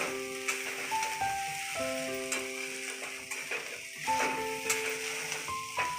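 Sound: stirring and mixing veg fried rice in pan

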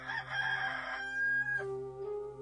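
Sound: rooster crowing

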